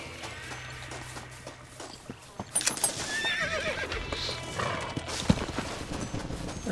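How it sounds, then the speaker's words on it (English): Horse neighing and hooves clip-clopping in the video game Red Dead Redemption, with steady hoofbeats throughout, a whinny rising mid-clip and some game ambience around it. "I think I'm taking this horse."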